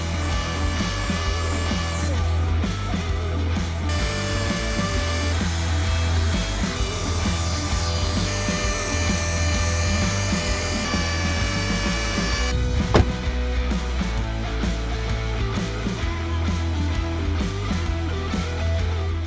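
A dual-action sander sands a car fender flare with a steady, loud, droning buzz that runs continuously at close range, its tone shifting slightly as pressure changes, with one sharp knock partway through and no talking.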